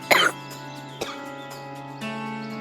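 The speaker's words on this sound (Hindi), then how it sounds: "फिर से खांसी उड़ गई।" A woman gives a sharp cough, followed by a smaller throat-clearing cough, with a faint background hum and a soft voiced sound near the end.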